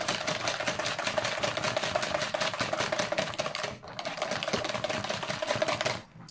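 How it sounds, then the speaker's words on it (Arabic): Eggs being beaten hard for a large, economical cake batter, a steady fast rattling whisk or beater that runs continuously and close, pausing briefly midway before resuming, with no talk. "المهم انا غنضرب هاد البيضه السنيده مزيان كما كتشوفوا"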